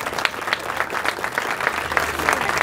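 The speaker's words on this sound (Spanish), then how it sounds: "Aplausos, por favor." Audience at a ceremony marking a local museum's 15th anniversary in Arroyito claps together, with a loud, close patter of individual hand claps that rises and falls slightly.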